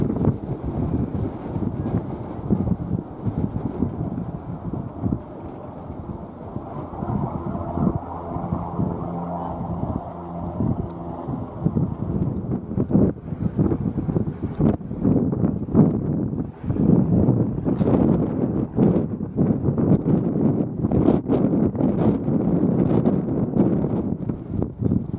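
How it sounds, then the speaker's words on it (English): Strong wind at Pensacola International Airport buffets the microphone in heavy, continuous gusts, loud and close, with a thin high whine and a few brief voices. "It's really windy out here,"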